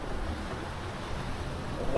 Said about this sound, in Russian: Вау, какие волны просто.